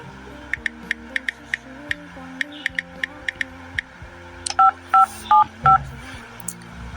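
A telephone number is dialed with a series of crisp, evenly spaced keypad beeps, followed by several longer tone bursts, heard clearly against a quiet room.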